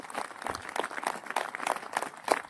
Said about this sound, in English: I want a huge round of applause for them.